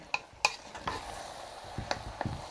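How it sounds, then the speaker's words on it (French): A spatula stirring grilled okra sauce with fish in a pot, giving soft scraping and light tapping clinks at an uneven pace, close and fairly quiet. "Pour éviter de casser le poisson, je vais faire le mélange à la spatule."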